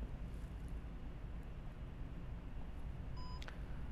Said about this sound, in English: hold down on the wand and wait to hear a beep